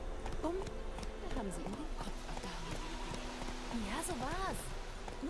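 Horse hooves clip-clopping steadily as a rider heads back in The Witcher 3 video game, the galloping rhythm running continuously under a man's speech and game ambience.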